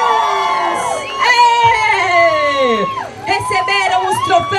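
A crowd cheering, whooping and shouting loudly at a podium ceremony for a running race, with excited voices and children's yells rising and overlapping close by.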